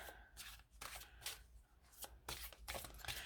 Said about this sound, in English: I'm shuffling like I'm doing a real reading.